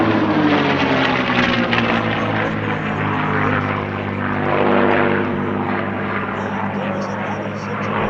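A P-51D Mustang with a Merlin engine flies past at an air show, its loud, steady propeller drone swelling and easing with a falling pitch sweep as it passes, an announcer's voice running faintly underneath.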